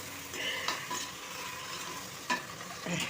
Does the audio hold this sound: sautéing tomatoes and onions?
yes